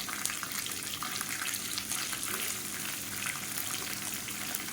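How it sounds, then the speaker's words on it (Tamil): Chana dal fries in a pan with a continuous, soft bubbling sizzle. The sound is steady and fairly quiet throughout. "இப்போ கடலைப்பருப்பு நல்லா பொரிய ஆரம்பிக்குது."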